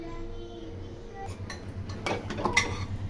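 A lid goes onto a cooking pot of fish-head mixed rice with vegetables, heard as a few light metallic clinks and rattles close by after a quiet stretch.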